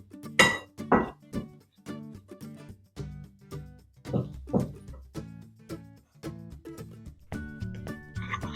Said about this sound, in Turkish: yavaş yavaş su ilave ediyorum çörek otlu unlu bir harç hazırlıyoruz